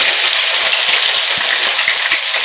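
Capsicum stir-fries for vangibath, a loud, dense, crackling sizzle close by, with soft scrapes and taps from the spatula stirring throughout.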